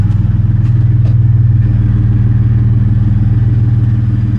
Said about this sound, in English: I'll at least start it so you can hear it at idle with the exhaust.